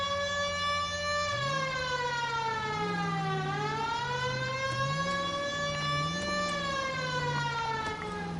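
A police car siren in the video game L.A. Noire wails, rising and falling in long sweeping cycles, loud and continuous, with a second lower tone shifting underneath.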